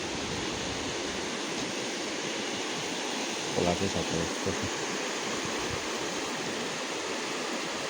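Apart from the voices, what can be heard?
stream flowing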